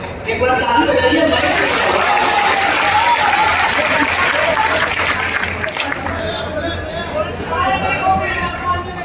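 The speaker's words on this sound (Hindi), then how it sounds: "एक बार ताली बजाइए।" Audience applause at a Hindi-Urdu poetry recital, a dense crowd clapping at steady loudness that thins slightly toward the end, with some murmuring voices mixed in.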